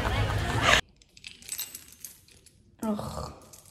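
A bunch of metal keys jingles and clinks in short bursts at the start and again near the end, close and fairly loud, with quieter handling rustle in between.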